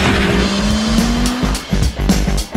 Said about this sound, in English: Dr. Evil, your second car has just left the lab